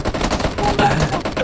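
Rapid machine gun fire in a shooter video game, a dense, loud stream of automatic shots over about a second and a half, with no talk.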